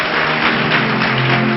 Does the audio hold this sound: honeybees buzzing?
no